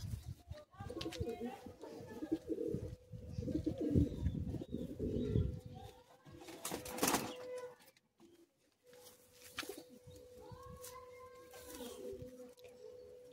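Pigeons coo and call at close range in a home loft, their low, repeated calls mixed with rustling and handling noise, with a voice speaking intermittently.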